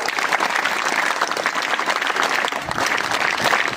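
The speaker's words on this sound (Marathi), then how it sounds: "तीन टाळ्या जोरात झाल्या बघा" Loud, sustained applause from an audience at a school event for electing student representatives, a dense steady wash of many hands clapping with no voices.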